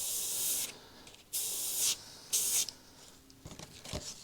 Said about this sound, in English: I like to spray through it and drag it.